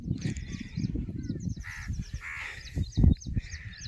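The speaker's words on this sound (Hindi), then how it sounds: "मुझे लगा सारे गांव के कौवे यहीं आकर बैठ के दिखे हैं" Crows caw repeatedly in a harsh, overlapping chorus over a village farm field, with a few white egrets about, the calls fairly close and steady across the whole stretch under outdoor background noise.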